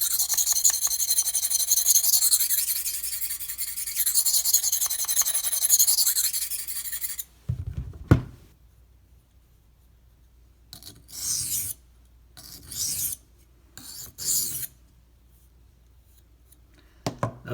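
Knife being sharpened on a 320 grit whetstone: long steady rasping strokes, then a sharp tap and a few short separate swipes to cut off the burr, close and clear with no talk.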